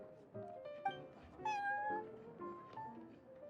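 A cat named Prince meows in the Genshin Impact video game, giving a few short, quiet meows in a row, some rising and falling, heard alone and close.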